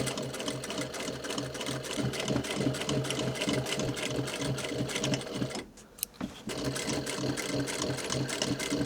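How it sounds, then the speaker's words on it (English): Sewing machine running top stitching back and forth on a pair of dungarees, a steady close rhythmic whir of needle strokes that halts briefly near the end and then resumes. "I'm just running a little top stitch back and forth, sort of tack stitch on the decorative stitch"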